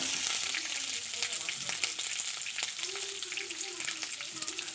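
Onions fry in oil for chicken sambar, making a faint, even, hissing sizzle with occasional light stirring ticks, close by and without talk.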